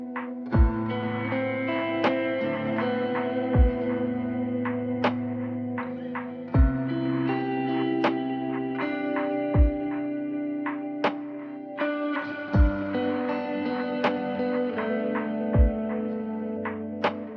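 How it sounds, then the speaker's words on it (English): Electric guitar played through a reverb pedal set to a lo-fi mode, with sustained chords and picked notes blooming into a dark, roomy wash and regular low plucked accents repeating every few seconds, close and steady with no talking. "I also like lo-fi. It adds some room resonance."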